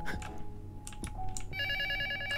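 An in-game telephone in the horror video game Luto rings loudly and steadily in the second half, a stacked electronic trill that starts abruptly after quiet room noise and a few soft knocks.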